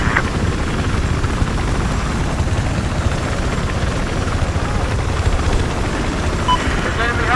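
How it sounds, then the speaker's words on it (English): Enemy helicopter in the video game Battlefield 4, a steady loud rotor roar with dense low-end rumble filling the whole stretch, mixed with battlefield noise and some voice chatter. "There's an enemy helicopter operating east of your position."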